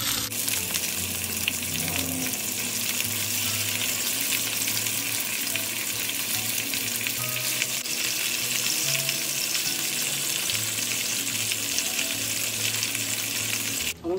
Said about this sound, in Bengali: ইলিশ মাছগুলো আগে ভেজে নেব